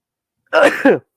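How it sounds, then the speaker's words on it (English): A single short sneeze bursts out of silence, close and abrupt, then stops. "I gotta sneeze."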